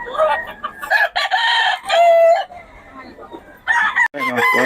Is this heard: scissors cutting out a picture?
no